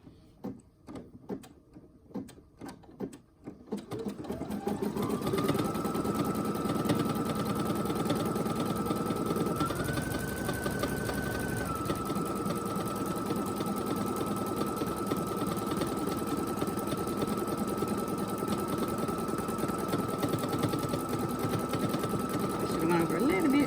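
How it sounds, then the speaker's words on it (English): An embroidery sewing machine starts after a few soft clicks, then stitches rapidly and steadily to tack down an appliqué for a faux chenille design, a close mechanical whir with a brief shift in pitch midway and a voice talking early on. "back to the machine. Okay, now it's just going to tack it down so I can cut the extra around it"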